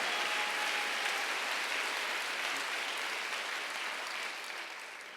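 Congregation clapping during a Korean church Sunday service, a steady, dense wash of applause that fades slightly toward the end, with no talking over it.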